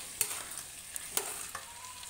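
Potatoes with turmeric, chili and cumin powder stirred in a pan, a soft continuous sizzle broken by a few sharp scrapes of the spoon at irregular moments, close and fairly quiet.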